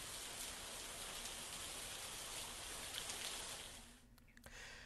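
Heavy monsoon rain pouring down steadily as a dense, loud hiss that fades slightly in the last second, with no voices.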